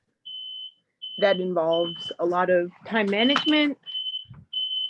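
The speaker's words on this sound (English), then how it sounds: "Sorry, that's the fire alarm." A fire alarm gives a series of high, steady electronic beeps indoors, repeating at intervals, with a person talking over and between the tones.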